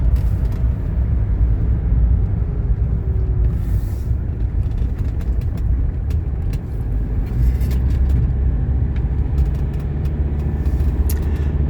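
A 1981 Mercedes 300SD drives steadily with a low, constant engine and road rumble from inside the cabin, with faint clicks and rattles and no talking.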